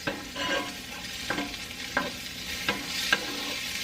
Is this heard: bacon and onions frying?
yes